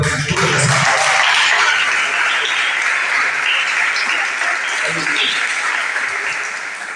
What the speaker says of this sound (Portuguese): Você pode aplaudir ao Senhor pela leitura dessa palavra.